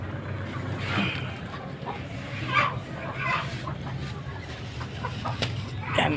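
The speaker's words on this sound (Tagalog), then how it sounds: "Tatakbo na yung manok guys." A chicken bought at a market clucks a few times in short bursts, fairly close, over a steady low hum of background noise and movement.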